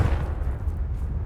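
A short, deep rumbling blast from the Confringo fire spell exploding in Hogwarts Legacy, heavy in the low end, loud and continuous for about a second.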